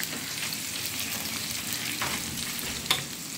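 Chopped onions sizzle steadily in a hot pan with a continuous crackling hiss, occasional stirring scrapes and one brief clink near the end.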